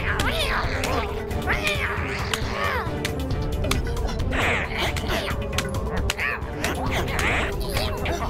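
An animated cyborg cat meows repeatedly, several drawn-out, wailing cries in a row over a steady background hum.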